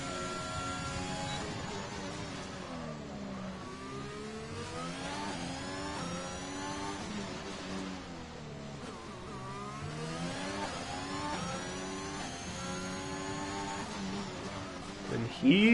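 An Alpine Formula 1 car in an F1 racing game on the Azerbaijan circuit, engine screaming and shifting through gears in steady rising and falling sweeps, heard close and continuous for the whole stretch.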